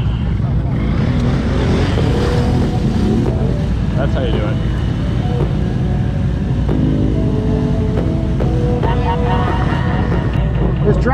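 A twin-turbo methanol racing tractor engine roars and revs hard, its pitch climbing and falling, while someone speaks briefly over the loud mechanical noise.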